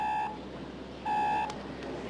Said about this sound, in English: Car phone.